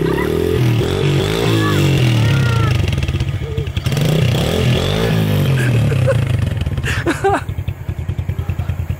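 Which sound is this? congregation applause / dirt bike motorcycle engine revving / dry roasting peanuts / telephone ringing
dirt bike motorcycle engine revving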